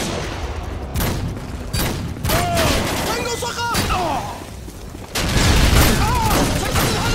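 Rapid rifle fire from the M21 in Modern Warfare 2 multiplayer, a loud run of repeated shots and bursts with game effects and explosions layered on top.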